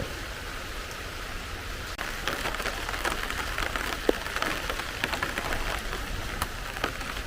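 Soft, steady patter of light rain, a gentle drizzle hissing evenly throughout with a few faint scattered drops and no voices.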